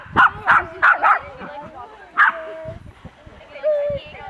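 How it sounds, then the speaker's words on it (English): Several puppies and dogs yip and bark at a puppy reunion, with a run of quick sharp yelps, another bark a moment later and a whimpering tone near the end, all close by and with people talking. "There's Maddie with all the dogs."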